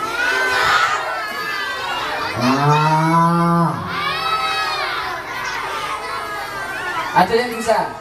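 Children at an Islamic storytelling session call out in loud, drawn-out moos imitating a cow, several voices overlapping in two long swells with a shorter burst near the end.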